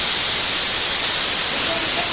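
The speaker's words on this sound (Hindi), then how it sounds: "सीटी आ गई, इसको हम उतार लेते हैं।" A steady, loud hiss of steam rushing out of a pressure cooker whistle, continuous and unbroken.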